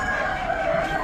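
Easter Egger chickens cluck steadily amid a busy animal auction crowd, the bird calls blending with a constant wash of background chatter and barn noise.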